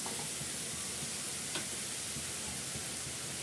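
Fried rice sizzling steadily in a hot pan just after soy sauce is added, a constant dense crackle with a faint tick or two, fairly close and with no talk.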